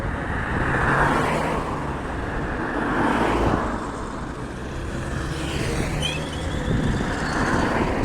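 Steady traffic roar on a Dubai road, with cars speeding past close by in continuous overlapping swells of engine and tyre noise.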